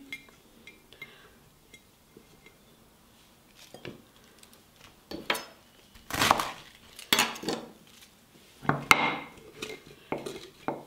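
Vegetables for Turkish lacto-fermented pickles are packed into small glass jars. Scattered clinks of glass and crunchy pressing come in short bursts between quiet pauses, close by.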